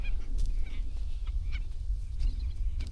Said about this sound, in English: Yeah, that's a gannet.